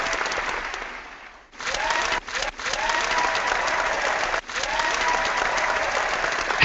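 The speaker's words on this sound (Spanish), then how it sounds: "Se han quedado encallados los aplausos." Audience applause after a speaker is introduced at a business launch event, a steady dense clapping that dips briefly, then swells again and continues loudly to the end.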